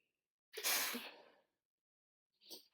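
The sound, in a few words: sneeze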